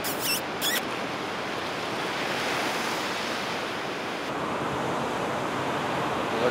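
Surf washing steadily onto a sandy beach below cliffs, a broad continuous hiss and rumble at moderate distance, with brief high chirps at the start and no talking.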